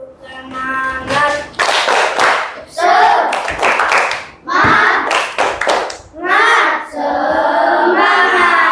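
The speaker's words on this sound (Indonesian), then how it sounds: "Ketua kelasnya, pimpin, tepuk semangat." A class of schoolchildren performs a rhythmic spirit clap led by the class leader, loud bursts of clapping alternating with children chanting together in a close, echoing classroom.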